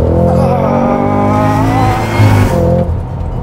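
Cadillac CT5-V Blackwing with a V8 and manual transmission accelerating hard, its engine note rising steadily and loud and close, with a strong rumbling drone and climbing harmonics before a brief shift near the end.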